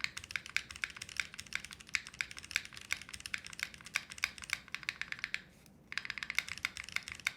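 A mechanical keyboard with KTT Rose linear switches is typed on steadily, a dense run of sharp, close clacks with brief pauses, including one short silent gap near the end, and no voices.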